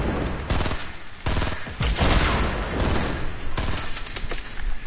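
Dense, loud video game gunfire rattles almost nonstop in rapid automatic bursts, overlapping shots with brief gaps, during a large 50 versus 50 battle.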